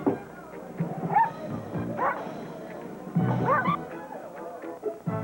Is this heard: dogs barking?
yes